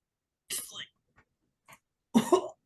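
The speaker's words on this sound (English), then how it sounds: "you're starting to cough." A person coughs twice in short, harsh bursts separated by a brief pause, close by and otherwise quiet.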